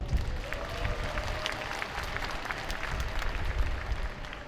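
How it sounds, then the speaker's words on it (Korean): Sustained crowd applause fills a large hall at a Korean rally in Suwon, steady and dense from start to finish with no voices rising above it. "박수 한번 칩시다"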